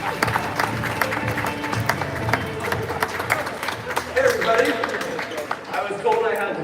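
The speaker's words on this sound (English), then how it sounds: "So let's have a big round of applause to get into Jesse's kickoff talk." Audience applause and cheering greeting a kickoff talk at a Based Southeast Asia event, busy, close clapping mixed with crowd chatter and voices throughout.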